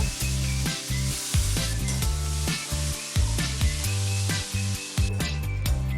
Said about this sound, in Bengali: এবার আমরা ওই তেলেতেই উচ্ছে ভেজে নেব।